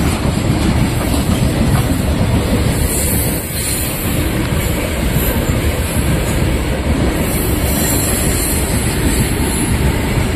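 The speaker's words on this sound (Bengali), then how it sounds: "ট্রেন যাচ্ছে বাবা, ট্রেন যাচ্ছে, দেখো কত বড় ট্রেন," A big train rolls past close by, a loud continuous rumble with rapid clickety-clack of wheels on rails sustained throughout, with no talking.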